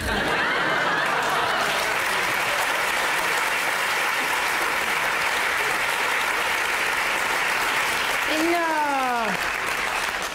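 Comedy show audience applauding in a theater, sustained heavy clapping from a large crowd with a few chuckles mixed in, close and loud, until a voice briefly cuts in near the end.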